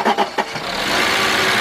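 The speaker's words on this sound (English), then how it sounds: "Look at that car start." A 1997 Mercedes-Benz E320 that has sat unused for almost a year cranks with a few uneven bursts, then catches and settles into a steady, rough-running idle, recorded close up.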